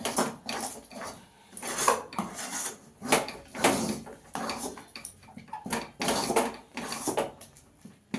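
A spoon scrapes and knocks around a pan while stirring a cumin-spiced lentil mixture, continuous close scraping with irregular clatters and no talking.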